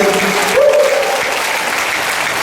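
A church congregation claps together in a steady burst of applause. A voice briefly speaks or calls out early on, partly over the clapping.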